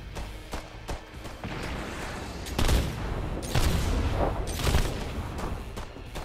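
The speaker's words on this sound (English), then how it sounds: "see how many bullets I sprayed with the grenade launcher" Rapid gunfire from a grenade launcher in the video game Earthfall, a loud dense barrage with heavier booming bursts near the middle and end, continuous over the whole stretch.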